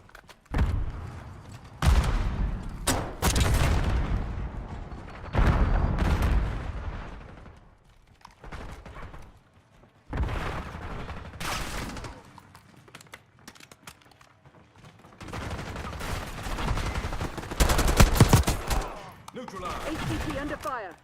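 Bursts of video game gunfire crackle through an online firefight over an objective, arriving in dense clusters between quieter stretches while game voice lines and talk run over them.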